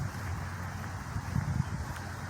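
Wind gusts across a dock by the bay at Bayshore Live Oak Park in Port Charlotte, heard as a steady, low buffeting rumble against the microphone with slight surges and no voices.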